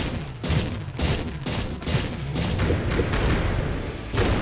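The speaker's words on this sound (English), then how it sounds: "I can drop bombs and shoot the gun at the same time" Rapid gunfire and bomb blasts from the video game Eternal Edge + come in a dense, loud barrage of repeated sharp bursts and booms, with no talking over them.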